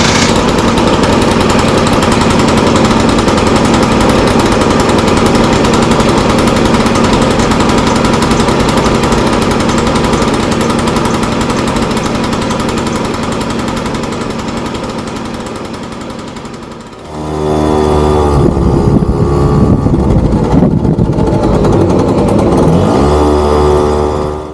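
A Honda Stream scooter engine drones loudly and steadily while riding, easing off around two-thirds through, then picking up again with a rougher, revving buzz.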